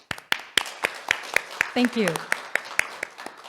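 Applause at a carbon neutrality conference, heard as sparse, evenly spaced single claps that ring out sharply one after another. A voice briefly talks in the middle.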